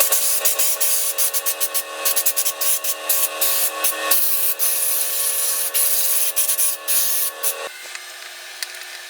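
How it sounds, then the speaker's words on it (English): Compressed air gun blowing metal chips out of a Tormach 1100MX milling machine, heard as close, loud hissing bursts in quick irregular spurts, then a longer blast that cuts off near the end. "I'm going to grab compressed air and blow out all the chips from there so we don't drop anything down onto the ways."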